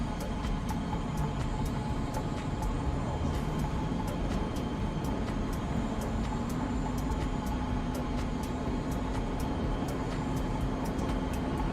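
An aircraft taking off in Microsoft Flight Simulator 2020 makes a steady, dense engine roar with a slowly rising tone, unbroken and fairly loud, overlaid by faint rhythmic ticking.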